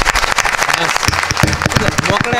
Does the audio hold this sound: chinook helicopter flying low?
no